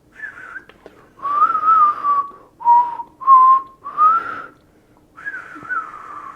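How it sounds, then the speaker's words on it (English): Someone whistles a short, wavering tune in six close, breathy phrases with brief pauses between them, alone and near. "I suck at whistling."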